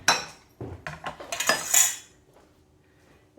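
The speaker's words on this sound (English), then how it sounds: "And dish some up in our plates." Serving utensils clatter against pots and plates as cabbage and boiled potatoes are dished up, a quick run of close metallic clinks and scrapes that fades into quiet.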